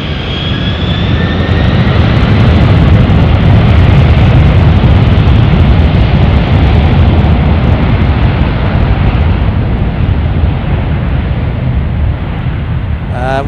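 Jet airliner engines at takeoff at Paine Field, home of Boeing, a huge, continuous roar that stays loud and broad throughout.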